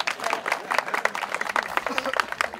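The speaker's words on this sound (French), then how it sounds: "Applaudissements pour le coach de l'équipe de l'Issue." Scattered hand claps ring out for a team coach at the final of a friendship tournament, a lively but thin patter of individual claps heard alongside voices.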